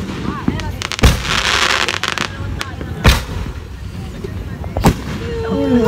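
New Year fireworks at Treasure Mountain in Tanay, Rizal, crackling and popping close by, with three sharp booming bursts spaced a couple of seconds apart over a dense crackle, while people chatter and call out.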